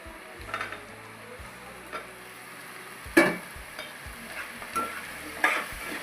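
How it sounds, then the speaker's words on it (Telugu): Onions and eggplant fry in a pan with a soft steady sizzle, broken by a few sharp scrapes and clinks as a utensil stirs the vegetables. "నేనైతే ఆనియన్స్ కొంచెం లైట్గా ఫ్రై అయ్యాక ములంకాయలు వేసేస్తాను."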